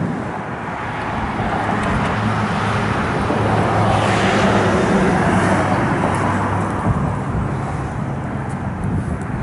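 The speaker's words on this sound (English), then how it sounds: "Car goes down the road great." A 1964 Chevrolet Chevelle Malibu SS with a fuel-injected 383 engine and overdrive transmission drives along a road, a steady broad engine and road roar that swells midway, with no talk.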